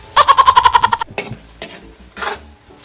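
Adobo stirred in a pan: a quick run of rhythmic ticking clatters, then a few separate scraping strokes of the utensil against the pan, close and fairly loud.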